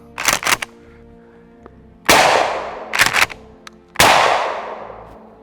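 Shotgun fitted with a suppressor firing birdshot rounds: two sharp blasts with decaying tails, each preceded by clustered clicks and handling clatter, loud and close with no talking.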